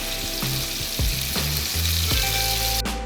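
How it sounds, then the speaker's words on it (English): Lamb seared in hot oil in a pan gives a steady, loud sizzle and spit throughout, with a sharper burst of crackling near the end as more meat hits the oil. "Now we're just searing the lamb off, so we don't need to cook it all the way through."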